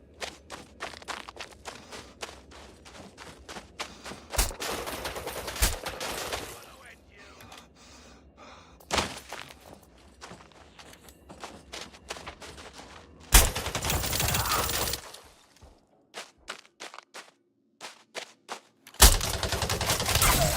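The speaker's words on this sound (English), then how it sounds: "That's the shotgun for you." Shotgun blasts in the space game Elite Dangerous come as loud, broadband bursts among rapid gunfire, clatter and mechanical sounds, fairly close and alternating with quieter stretches.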